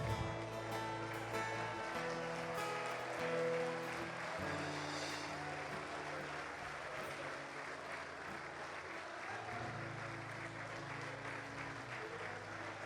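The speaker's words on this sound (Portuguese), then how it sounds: "Aplauda com alegria." A crowd at a state men's church congress breaks into joyful applause, dense sustained clapping filling the hall over a low held musical tone, continuing steadily throughout.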